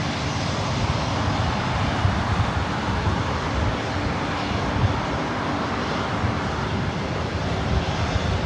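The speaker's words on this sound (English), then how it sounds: "The JetBlue A320 up next for takeoff." A JetBlue Airbus A320 jet at LAX, a steady loud engine roar and rushing broadband noise, continuous and fairly close, with no voices.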